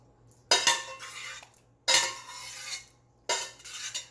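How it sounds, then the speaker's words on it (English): A metal utensil scrapes leftover pasta sauce from the bottom of a pan in three distinct bursts of clinking and scraping, close and fairly quiet, with short pauses between. "I do still have some sauce left in the bottom of the pan, so I'm going to go ahead and scrape that out and put it on."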